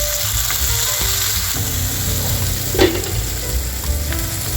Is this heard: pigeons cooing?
no